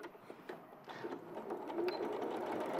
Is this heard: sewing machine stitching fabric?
yes